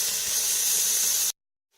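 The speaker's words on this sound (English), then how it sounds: "Ooh, listen to that sizzle." Beef sizzles loudly in a hot Instant Pot, a bright steady crackling hiss that cuts off abruptly.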